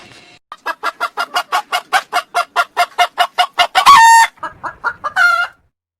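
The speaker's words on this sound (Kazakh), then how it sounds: "тауық," A cartoon-style hen clucks in a rapid, loud, steady run of about fifteen short calls, followed by a louder crowing burst and a few final clucks, with no voices.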